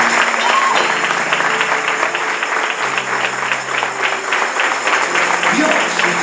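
A congregation applauds during an evangelical church service: a dense, steady wash of clapping that fills the whole stretch, with voices mixed in.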